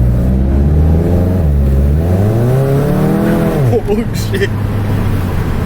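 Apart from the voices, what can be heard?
tuned DSG car accelerating hard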